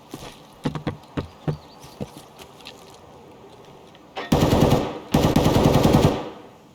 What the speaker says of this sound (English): Somebody's shooting close.